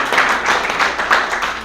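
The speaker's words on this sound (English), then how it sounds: "So give him a big round of applause," A crowd at a New Year celebration and opening ceremony applauds with steady, dense clapping that holds at an even level throughout, close and fairly loud.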